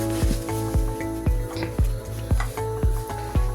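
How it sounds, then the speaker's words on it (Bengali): Oil rubbed around the inside of a nonstick frying pan: rhythmic scraping strokes, roughly seven regular swipes each ending in a light clink, close and moderate under a faint sizzle, with no one speaking. "এই যে এভাবে একটু তেল দিয়ে ঘষে নিলে যেটা হবে লেগে যাবে না।"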